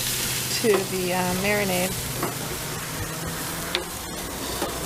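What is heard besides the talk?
spatula scraping sizzling grilled chicken off the pan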